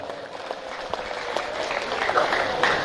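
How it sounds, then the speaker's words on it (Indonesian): Moderately faint, dense clapping from an audience at the 29th anniversary celebration of MAN 2 Kutai Kartanegara school. It rises slightly in strength over about three seconds with no talk on top. "Tepuk tangan untuk kita semua"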